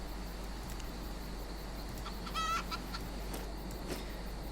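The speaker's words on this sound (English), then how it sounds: "I need to keep picking up chickens too" Chickens cluck and a rooster calls amid a farm scene in the video game Albion Online, one brief rising call standing out midway over a steady background hum and ambient noise.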